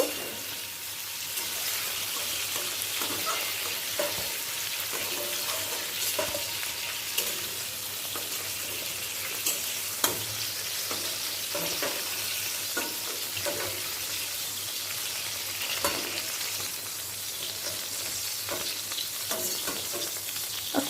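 Pointed gourd (patol) fries in oil in a pan, a constant loud sizzle with intermittent spoon scrapes and turns throughout, and no one speaking.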